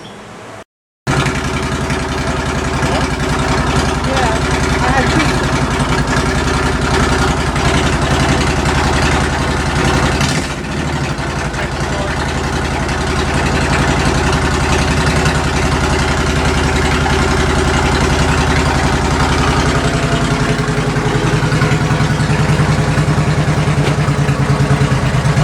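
A 2005 Suzuki C90 motorcycle engine fires up after a brief silence and settles into a loud, steady idle in neutral that runs unbroken for the rest of the clip, close to the machine.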